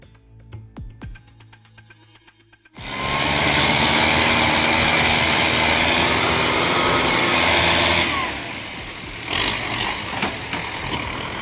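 A 1939 Farmall A tractor engine pulling a hayride kicks in abruptly and runs as a loud, steady drone, then eases to a lower, rougher idle near the end, with no talk over it.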